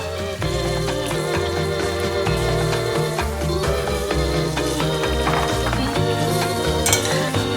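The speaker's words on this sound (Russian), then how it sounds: "Посыпаем солью и перемешиваем с зеленью и гранатовыми зернами." Salt, fresh greens and pomegranate seeds being tossed and stirred in a pan beside frying meat, with a steady loud sizzle and rhythmic scraping and clinking of utensils throughout, no voices.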